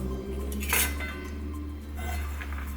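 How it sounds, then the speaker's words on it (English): A spoon scrapes and clinks against a dish while chopped, toasted pecans go into squash, a short run of light metallic taps and scraping close by with no talking. "I'm going to add in my chopped pecans."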